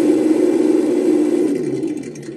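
A Redcat Gen8 V2 RC crawler's add-on sound module plays a continuous mid-pitched engine hum, close and fairly loud, fading a little near the end, heard alone.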